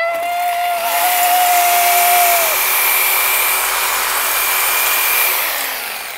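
A Sawzall reciprocating saw cuts through a bolt on a RZR 9000XP side-by-side, a loud close rasping buzz that holds steady for about six seconds with a whine shifting early on, then tapers slightly at the end.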